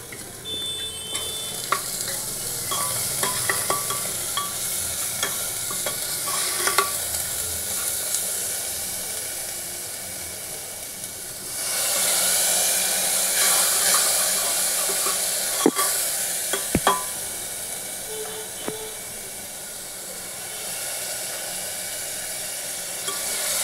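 Spices for moong dal khichuri fry in a pan while being stirred, a long, even sizzle with scattered scraping strokes and clinks, swelling briefly louder midway before settling back.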